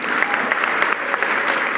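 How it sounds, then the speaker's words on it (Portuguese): Audience applause for Sammy Sampaio on the Marçal Talks stage, a dense steady wash of many hands clapping, close and loud throughout with no voices over it. "Uma salva de palmas para a Sami."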